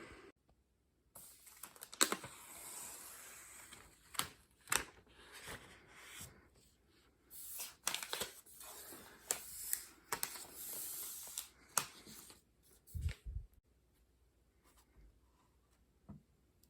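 Crinkling and peeling of protective plastic film from a new MacBook Pro, a run of close, irregular rustles and crackles with short pauses between tugs, no talking.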